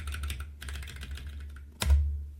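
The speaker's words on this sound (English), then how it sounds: "Notice how I can use my keyboard to navigate it." Rapid clicking keystrokes on a computer keyboard navigating a calendar, close and crisp in quick bursts, with a louder single key strike near the end.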